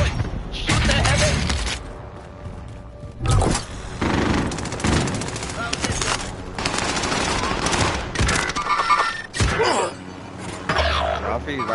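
Rapid automatic gunfire bursts from a shooter video game fill most of the span, loud and dense, with shouting voices talking over the shots.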